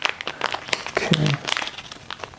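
Plastic packaging crinkling as a stylus pen for an HP Spectre x360 13 laptop is opened, irregular crackly rustles and small snaps close up, with a brief low thud midway and no speech.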